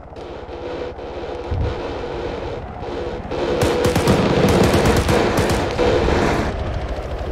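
SCAR rifle fire in ARMA 3: sporadic shots early on give way to a louder stretch of rapid firing midway, with wind-like rumble and ambient battlefield noise underneath.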